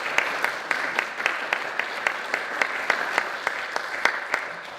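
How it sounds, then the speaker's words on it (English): A small audience at a Princeton commemoration event claps to welcome guests from Hiroshima, a modest, fairly sparse patter of individual claps with a few distinct sharp hits, steady for about five seconds. "Please give them a round of applause as welcome to Princeton"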